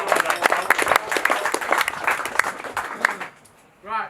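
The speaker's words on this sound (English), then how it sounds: "can we just say a big round of applause for Tom for pulling it all together for us?" A crowd at an angling match prize giving breaks into a round of applause, with dense close clapping that fades after about three seconds before a voice starts speaking.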